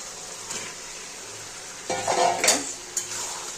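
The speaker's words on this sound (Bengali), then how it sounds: "এবার আমি চিকেনগুলো সব দিয়ে দেবো" Chicken pieces going into a pan of spiced masala for chicken kosha: a soft fry hiss, then a short burst of clatter and sizzle as they land, and a later clink.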